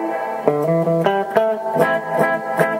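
Electric guitar through amp emulation on a Universal Audio Apollo Quad, with an amp-like tone, a few picked chords and single notes ringing out with slight grit, played alone and close.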